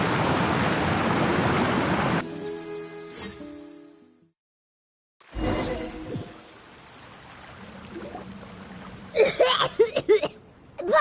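Paimon from the video game Genshin Impact coughs after swallowing water: a rush of flowing water, a brief silence, then a few short, sharp coughs near the end.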